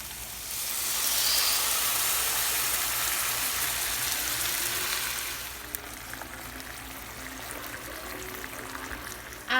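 A honey, soy sauce, sesame oil and cornstarch sauce hits a hot pan of cooked chicken, bursting into a loud hissing sizzle that gradually settles into a quieter steady bubbling crackle.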